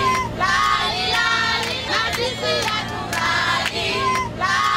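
Excited children sing together as a group on their way to their first picnic in Tanzania, a steady, lively chorus over a constant low hum, with loose shouting voices mixed in throughout.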